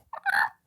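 Chickens in a TV show scene give a brief, close burst of gobbling, clucking fowl calls: two quick squawks in a row, then one shorter call after a short pause, with no talk over them.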